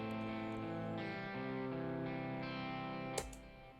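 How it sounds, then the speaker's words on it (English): Electronic instrument tones run through a delay feeding into a bright hall reverb, sustained layered notes that smear together into a long, shimmering wash, with a brief sharp transient near the end followed by a ringing tail. "I've added a bright hall reverb after the delay, because I want the delay to just kind of go soaking right into that reverb"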